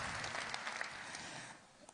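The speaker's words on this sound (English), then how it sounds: "So please give them another round of applause" An audience claps for performers at an agriculture talk, a soft dense patter that is fairly quiet and fades out over about two seconds.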